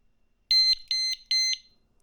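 A cheap disc brake lock alarm arms with three short, loud electronic beeps at an even pace, heard alone with no talk around them.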